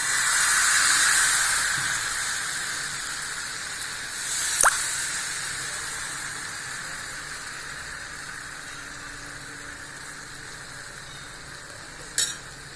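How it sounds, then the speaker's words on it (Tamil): Dosa batter poured onto a hot dosa griddle, giving a steady broad hiss and sizzle that is loud at first and slowly fades, with a few brief clicks and scrapes of utensils against the griddle. "இப்போ அடுப்பை ஆன் பண்ணி தோசை கல் போட்டாச்சு. வாங்க தோசையை ஊற்றிடலாம்."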